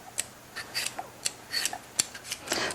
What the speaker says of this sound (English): Use my peeler to peel my sweet potato.